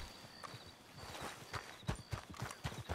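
Horse hooves in the video game Red Dead Online clop in a quick, uneven rhythm, growing louder and closer as the animal approaches, with a faint background hum beneath.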